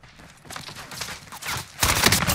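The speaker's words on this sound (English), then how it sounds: "They're up above shooting us too" Gunfire in the shooter Call of Duty Cold War Warzone: scattered distant shots first, then a louder, closer volley at the end, with no talk over it.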